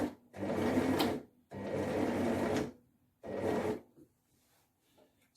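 An overlocker sewing machine stitches the side seams of a cowl neck dress in three close, whirring bursts, each about a second long, with short pauses between them and a faint rustle at the end.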